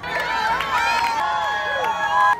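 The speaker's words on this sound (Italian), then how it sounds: "Voi sentite che gridano i nomi delle persone" Spectators lining the New York City Marathon route cheer and shout runners' names in a loud, continuous stream of overlapping voices, with strong yells rising out of the crowd noise.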